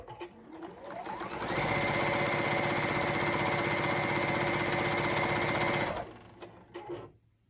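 A sewing machine stitching a quarter-inch seam, running in one steady, loud rattling burst for several seconds before slowing and stopping.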